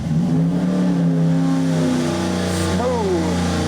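A modified 2023 Ford 7.3L Godzilla V8 revs hard and loud, its pitch climbing steadily, easing briefly and then rising again near the end, with no break in the sound.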